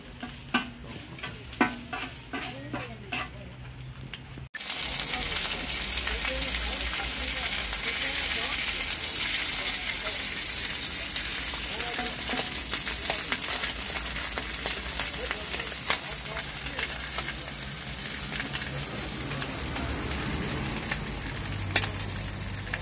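Fish and bread fry in a Diyarbakır street-food stall, a loud continuous sizzle that kicks in after a quieter stretch of clatter and goes on alongside stirring sounds, with occasional voices in the background.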